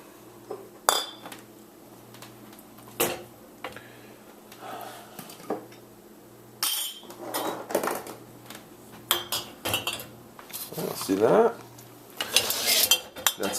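Dishes, jars and cutlery clink and clatter as they are loaded into a home dishwasher, with irregular knocks and rattles of plates and utensils close by, bursts of clinking spread throughout and a steady low hum underneath.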